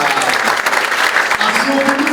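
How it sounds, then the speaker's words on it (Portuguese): Audience at a lecture clapping, a dense, even burst of applause up close that carries on throughout, with a voice audible beneath it. "Olha aí, uma salva de palmas para ele, por gentileza."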